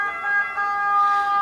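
An ambulance siren wails in steady, rising and falling tones at moderate volume, with faint traffic rumble beneath it. No speech.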